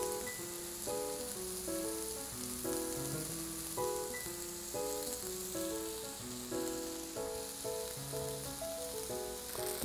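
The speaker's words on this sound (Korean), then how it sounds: "겉이 노릇해질 때까지 이렇게 앞뒤로 구워주시면 돼요" Thinly sliced scallops seasoned with salt and pepper sear in a hot, oiled grill pan, giving a steady, soft sizzle under background music.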